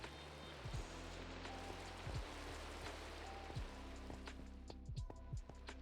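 Steady rain pours down in a Minecraft modpack world, a dense, even hiss of drops on surfaces running throughout, with faint pops and clicks of game machinery scattered over it and no talk.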